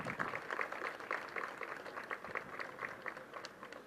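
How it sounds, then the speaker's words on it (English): An audience at a corporate event claps for an arriving speaker, a fairly faint, brief round of applause with individual claps audible in an uneven rhythm. "Please give a big round of applause."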